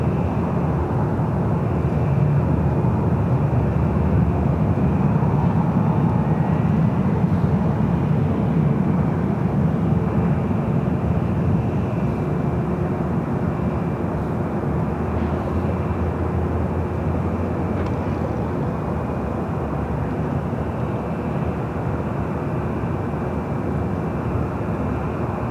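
A Oneworld-livery Pacific airliner approaches the north side of LAX, a loud, steady broadband jet roar with a low rumble that holds for the whole stretch without talk.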